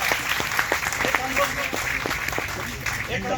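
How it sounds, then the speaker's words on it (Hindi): Audience at a Haryana police gathering clapping in a loose, uneven rhythm, with talk running through the claps. "उनके लिए ताली बजाओ भाई"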